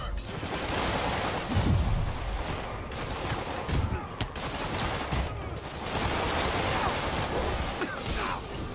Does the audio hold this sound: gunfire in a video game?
yes